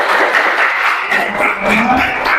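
Applause from a group of students at a school floor-gymnastics class closing session, steady and dense for a couple of seconds with some voices mixed in.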